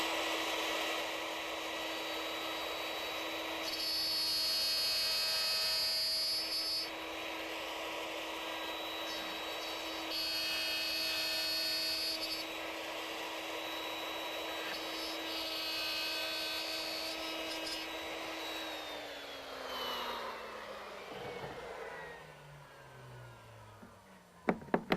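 A router cuts an oak board with a steady, high, whining motor roar that holds for a long stretch, then winds down as the motor spins to a stop near the end.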